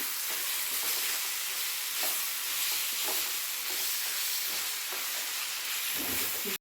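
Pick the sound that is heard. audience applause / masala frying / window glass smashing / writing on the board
masala frying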